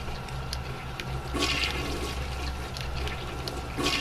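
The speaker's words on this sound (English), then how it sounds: "The sound of a toilet flushing" A toilet flushes in the video game BioShock, a steady rushing swirl of water with brief gurgling surges, heard close and alone.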